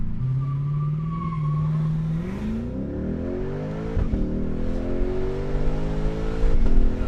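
A loud, raw Lexus IS F exhaust with the muffler deleted revs up, the engine note climbing and holding with a rasping, unmuffled roar, ending in sharper blips.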